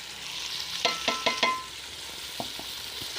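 Masala with ginger-garlic-green chili paste sizzles softly in a pan for a chicken salan, with a quick run of spoon scrapes and taps against the pot followed by a few lighter knocks.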